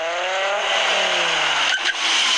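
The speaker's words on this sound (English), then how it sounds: "It's a Mark V Jetta." A Mark V Volkswagen Jetta with a 2.5-litre five-cylinder engine revs steadily, a loud, close, continuous engine note whose pitch sweeps and settles, heard alone without talk.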